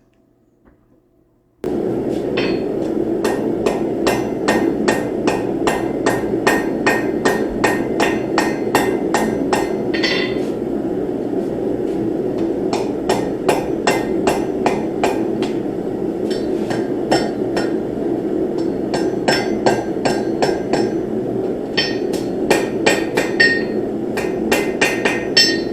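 Rounding hammer strikes on an anvil as a seax blade is forged, its tang butt shaped with the flat face: steady rhythmic ringing blows in quick bursts with brief pauses, close and loud throughout.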